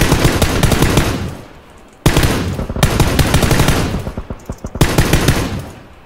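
Automatic weapon fire in PUBG comes in four close, loud bursts of rapid shots, each followed by a short fading tail and brief pauses between them.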